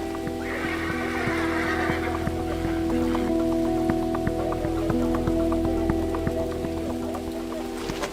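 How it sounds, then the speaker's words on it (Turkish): A horse neighs in the open amid steady rain pattering on surfaces, the whinny rising clearly over the wet background hiss early on, with occasional hoof clops and distant faint voices. "At sesi bu."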